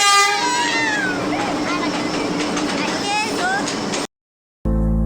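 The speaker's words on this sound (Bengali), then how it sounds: "ফাইনালি ট্রেনটা এসে পড়ছে ট্রেন আসছে" A train pulls into a station in Bangladesh, its horn sounding in several rising and falling toots over rumble and crowd noise, with people talking nearby before the sound cuts off.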